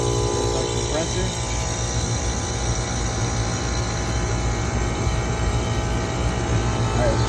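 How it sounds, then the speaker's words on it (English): A rooftop HVAC unit's compressor runs steadily in a dense, continuous mechanical drone with a strong low hum and broadband noise, loud and close throughout, with faint voices barely audible underneath. "There's our compressor."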